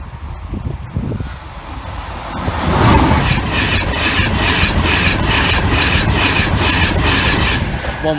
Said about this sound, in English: the 11:56 LNAR service from Peterborough to Retford